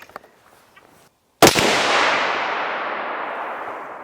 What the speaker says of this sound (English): Should I keep shooting?